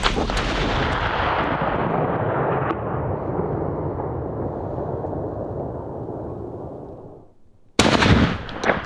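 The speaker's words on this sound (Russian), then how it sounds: "Наконец Филипп дал добро, и Константин выстрелил." A single loud rifle shot while hunting Corsican mouflon in France booms and rolls away in a long echoing decay, followed moments later by a sharp burst of noise.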